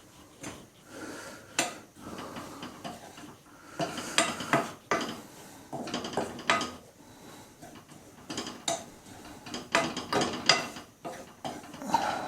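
Dry ragi flour being roasted in a pan, heard as intermittent scraping and stirring clatter of a spoon against the pan, fairly close and moderately loud with no talking.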